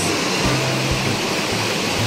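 Clear creek water flows steadily in a broad continuous wash, alone and close by, with faint low rumbles underneath.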